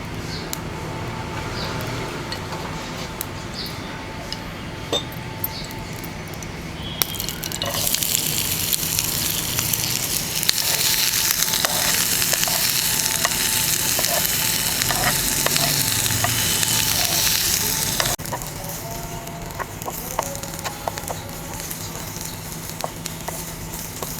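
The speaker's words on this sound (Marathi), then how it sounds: "याच्यात थोडा तेल टाकून कांदा भाजत आहे।" Onion fries in a little oil in a pan while cooking masala for misal pav, a loud, dense sizzle that swells midway and then settles back to a softer crackle with scattered stirring clinks.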